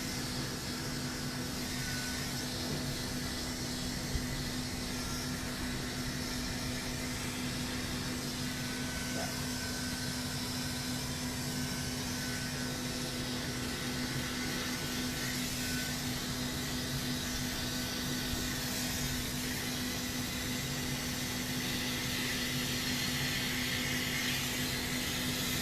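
Vacuum clipper system with hose running during a dog grooming shave-down, giving a steady, moderately loud suction drone with a faint hum that holds unchanged throughout, as if under talk.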